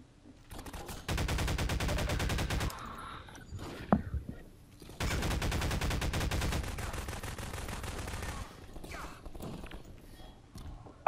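Two long bursts of rapid automatic gunfire in Half-Life 2 co-op, fairly loud, separated by a quieter gap holding one sharp crack, then fading into scattered faint noises.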